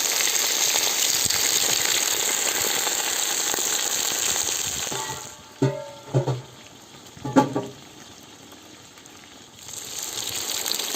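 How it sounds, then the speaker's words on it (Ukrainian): Lamb frying in a kazan for plov hisses in a loud, steady sizzle, then quiets for a few seconds while the meat is stirred with a few clanks and scrapes, and the full sizzle comes back. "Обсмажуємо м'ясце. Зараз має трошки просмажитися, запечататися."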